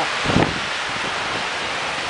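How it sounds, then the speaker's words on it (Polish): Light rain falling steadily during a summer 2006 thunderstorm in Bydgoszcz, a soft continuous hiss with a brief louder gust near the start and no voices. "Oj, troszeczkę pada."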